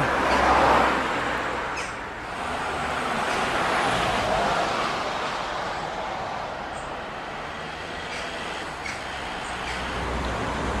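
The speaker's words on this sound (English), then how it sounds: "if you can hear me above the noise of this traffic" Steady roar of street traffic on a Manchester road outside a house, continuous and fairly loud with passing vehicles swelling and fading, no voices.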